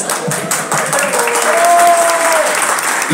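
Steady crowd applause fills the clip, dense clapping from many hands with a faint whistle-like tone rising through the middle.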